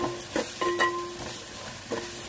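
Okra frying with a little turmeric in a heated clay pot, giving a steady close sizzle broken by several short scraping stirs and faint clinks, with no talk.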